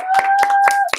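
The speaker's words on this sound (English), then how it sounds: "Huge round of applause." A few sharp hand claps in a quick, uneven rhythm, close and loud, with a steady tone humming underneath.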